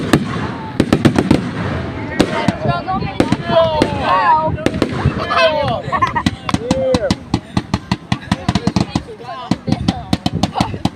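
Big shell fireworks burst in rapid succession over Pounawea, sharp booms and crackling thuds piling up densely toward the end, with excited voices calling out over the barrage.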